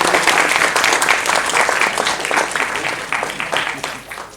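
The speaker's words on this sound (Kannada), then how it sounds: "ಎಲ್ಲರೂ ಒಂದು ಗಳಿಗೆ ಎದ್ದು ನಿಂತು ಜೋರಾದ ಚಪ್ಪಾಳೆಯೊಂದಿಗೆ ನಾವು ಅಭಿನಂದನೆಗಳನ್ನು ಸಲ್ಲಿಸಬೇಕು" A crowd at a book launch event in honour of a Padma Bhushan awardee gives loud, sustained applause, a dense clapping roar that fades gradually toward the end.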